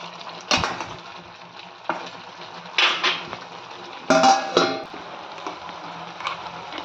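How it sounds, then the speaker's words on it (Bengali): Metal clanks against a cooking pan of mustard-paste chorchori, a few sharp, separate knocks of a lid being set in place over a low background sizzle, with no speech. "এখন একটু ঢাকা দিয়ে রাখবো, ঢাকাটা দিয়ে দিচ্ছি।"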